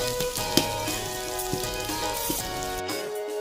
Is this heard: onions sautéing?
yes